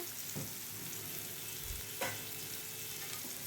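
Sea fish frying in masala in a pan: a steady, soft, even sizzle of oil with a few faint clicks and small pops, heard alone without talk.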